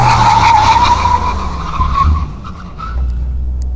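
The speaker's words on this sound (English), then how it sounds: "And now full brake." An AMG G-Class makes a full emergency stop with its tires skidding and squealing loudly up close. The squeal comes as one sustained screech over the engine's rumble and fades as the car halts.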